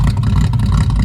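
A 1988 Mazda 929 with a low, modified exhaust rumbles steadily, a continuous deep engine drone close by without pause or speech.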